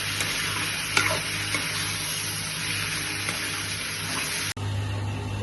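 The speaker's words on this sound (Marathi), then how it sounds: "हे सगळं वाटण एकजीव करून भाजूया, त्यामध्ये नरम होईपर्यंत भाजायचं" Ground masala paste for a spicy Maharashtrian Konkani chicken curry roasting in a pan, a steady close sizzle with a few spoon scrapes and one sharp clack near the end.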